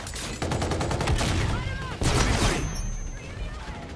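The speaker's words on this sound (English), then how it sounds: "These are like high-powered machine guns." Rapid bursts of high-powered machine gun fire in the Infinite Warfare video game, loud and close, with a rattling stream of shots that breaks off and then resumes.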